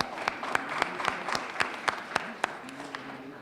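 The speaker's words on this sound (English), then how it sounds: "Can we just give another round of applause to our Turkish classical and folk music performers?" A dinner audience at a women's empowerment celebration claps for Turkish classical and folk music performers, a few distinct, evenly spaced claps standing out over softer scattered applause and room murmur for a few seconds.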